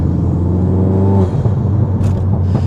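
Ford Focus ST Mk4 with a Dreamscience Stage 2 exhaust and no back box, heard from inside as it accelerates, a loud, steady, droning engine note that climbs smoothly in pitch before easing off.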